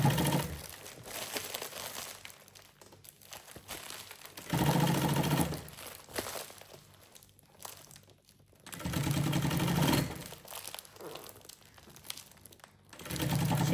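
A sewing machine stitches bias binding around a lunch bag in several bursts, each run a few seconds long separated by short pauses, close and fairly quiet with no talking.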